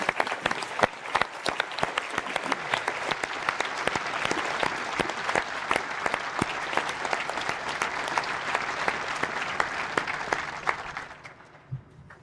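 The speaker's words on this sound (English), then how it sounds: "with a huge round of applause" Large audience applauding graduates at a University of Aberdeen graduation ceremony, sustained crisp clapping from many hands at a strong, even level, dying away abruptly near the end into quiet hall ambience.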